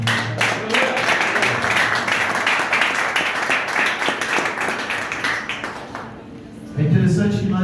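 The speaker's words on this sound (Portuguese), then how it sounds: "Aplaude o nome do Senhor." Congregation clapping in a church service, a sustained crowd of hands applauding steadily for several seconds before thinning out, with a voice coming in at the end.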